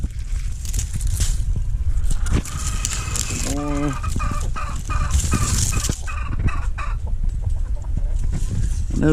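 Chickens on a homestead cluck and gobble-like calls rise over steady outdoor noise, close and fairly loud, with one clear drawn-out call in the middle and scattered clucks throughout.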